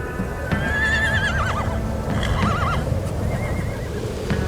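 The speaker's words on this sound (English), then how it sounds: "We're just sitting here waiting and the horses are spinning around." Several horses whinny in clear, rising-and-falling neighs over a steady background of hooves shuffling and clopping as they move and turn in place, waiting near a buffalo herd.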